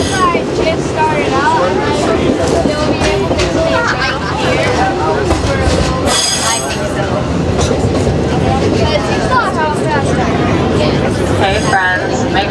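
The Walt Disney World Railroad train in Magic Kingdom, riding with a loud continuous rolling rumble and clatter of the cars, brief squeals and a crowd murmuring throughout.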